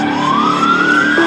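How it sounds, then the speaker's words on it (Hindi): A loud wailing siren rises steadily in pitch, close by and continuous, with an engine rumbling underneath. "एम्बुलेंस का सायरन।"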